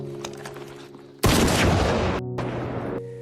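A gunshot in a film scene, fired toward a hill, a sudden loud blast that rolls into a long rumbling echo and fades against a low musical background.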